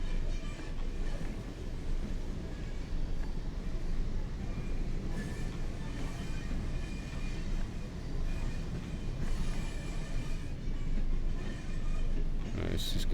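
A Class 101 diesel train in a train simulator on the West Coast Main Line rumbles along the rails, with a steady rolling roar and faint wheel clatter throughout.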